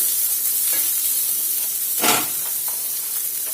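Ingredients for a spinach and onion dish fry in a pan over a medium stove until golden brown, giving a steady close sizzling hiss with one brief louder surge of spitting oil partway through.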